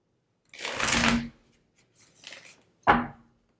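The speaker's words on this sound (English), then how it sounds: "Just shuffle one more time." Tarot cards shuffled by hand in three bursts: a long riffling rush, a softer second pass, then a short sharp snap, close and alone without talk.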